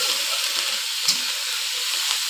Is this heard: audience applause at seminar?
no